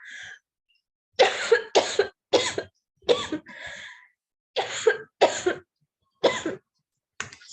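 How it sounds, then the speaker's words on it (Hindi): A person coughs in a quiet indoor room: about nine sharp, close bursts in uneven clusters, with short silent gaps between them and no talking. "मुझे खांसी आ रही है"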